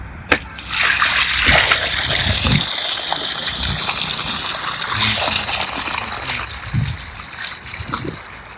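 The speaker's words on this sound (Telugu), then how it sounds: "నీళ్ళు సరిగా వస్తలేవు" Water runs from a tap or pipe in a village, splashing and gushing unevenly up close with irregular spurts and splatters.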